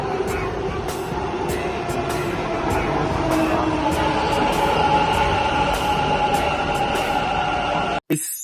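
A metro train runs through Yeshwantpur station, a loud continuous rumble and whine with steady tonal hums, regular clicks passing along the track, and a sharp break just before the end.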